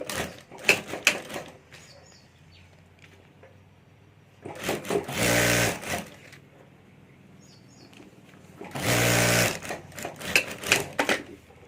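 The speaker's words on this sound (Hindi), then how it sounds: "यहाँ जिप के ऊपर हमें अस्तर रखना है, और अभी यहाँ ऊपर हमें सिलाई कर देनी है।" A domestic sewing machine stitches the zipper and fabric lining of a handmade hand bag, running in two sustained loud bursts with quieter handling and clicks between them.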